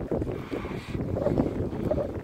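Light wind buffets the microphone while cycling through Botanica park on a mild spring day, a low, uneven rumble with gusts that rises and falls throughout.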